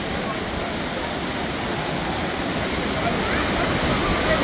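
Thirparappu Falls roars steadily, a dense broadband rush of falling water that stays loud and constant throughout, with no voices.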